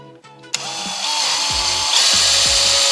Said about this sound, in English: Using the 1/2-inch drill bit, make a pilot hole for your snap toggle.